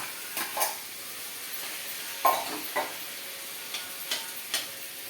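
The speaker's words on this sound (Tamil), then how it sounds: "இப்போ வேக வச்ச இந்த உருளைக்கிழங்கை இதில் போடுறோம்" Boiled potatoes being tipped and stirred into sautéed onions for a potato onion masala, a steady frying hiss under a series of distinct spoon scrapes and clinks against the pan.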